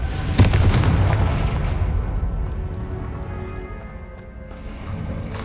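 Confringo explosive spell in the video game Hogwarts Legacy, a sudden loud boom with a sharp burst that rumbles and slowly fades over several seconds.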